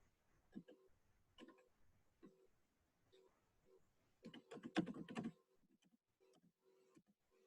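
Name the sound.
typing a password on computer keyboard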